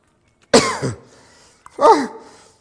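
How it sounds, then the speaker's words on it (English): Two loud, harsh coughs from a man, close up and separated by about a second of quiet, each a sudden burst that tails off quickly. "I start to cough"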